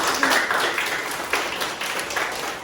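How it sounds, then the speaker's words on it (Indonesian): Children clap their hands in a few short bursts of light applause, with a busy noisy background. "beri tepuk tangan"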